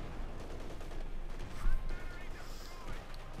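Gunfire from an MG-34 machine gun in the video game Company of Heroes 2, suppressing a lieutenant and pinning him down, heard as a dense, steady battle din under a talking commentator.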